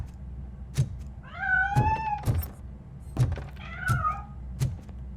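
A cat meows in the video game RoboCop: Rogue City, several drawn-out, rising and falling calls close by, mixed with dull thuds and knocks at a steady pace.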